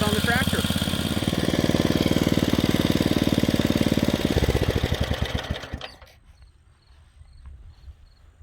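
Rebuilt engine of a Rugg carpet cut mower running steadily for about five seconds with a throbbing, uneven mid-range drone, then shutting off and winding down into near silence.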